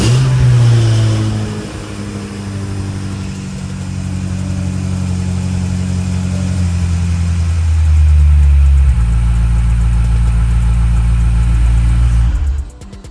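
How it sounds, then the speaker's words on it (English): BMW F90 M5 LCI engine cranking and catching close by, a loud startup flare settling into a steady low idle, then rising briefly before the engine cuts off abruptly at the end. "All right, start engine."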